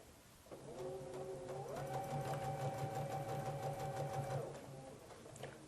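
A sewing machine stitches a seam on a Log Cabin Court House Steps quilt, giving a quiet, steady mechanical hum that runs for about four seconds and then stops, with no voices.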